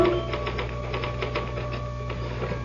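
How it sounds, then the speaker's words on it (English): Typewriter keys clacking in a 1974 radio mystery drama, a steady rapid run of close mechanical strikes over a constant low hum. "Can I use the typewriter for a moment?"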